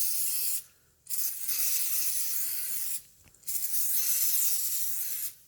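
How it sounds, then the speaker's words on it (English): Two bursts of spray starch from an aerosol can, each a steady close hiss lasting a couple of seconds and separated by short pauses, misted onto hat veiling. "I'm going to spray starch them."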